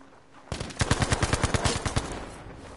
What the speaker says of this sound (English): He did fire his gun.